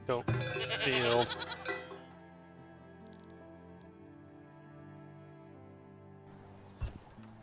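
Goats in the medieval settlement-building game Farthest Frontier: a loud wavering bleat right at the start, trailing off into quiet tonal background with a faint click near the end.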